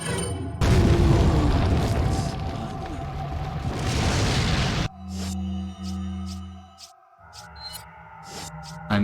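A booming incendiary grenade blast in the Resident Evil 4 game, a loud roaring burst that sustains for several seconds before cutting off into quieter echoing mechanical tones and low hum.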